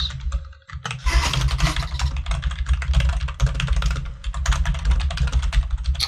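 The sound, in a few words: typing on a computer keyboard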